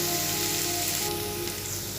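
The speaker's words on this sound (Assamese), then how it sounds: "এইখিনি এনেকৈ 1 মিনিটমান সময় ভাজি ৰাখিম।" Hot oil sizzles steadily around frying ginger, garlic and green chillies for a dhaba-style mixed dal, a close, continuous hiss with faint crackling and no voices.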